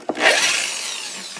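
A drill bit bores into the wooden body of a Gibson ES-345 guitar, a brief close grinding whir rising then settling into a steady rasping hiss for about a second.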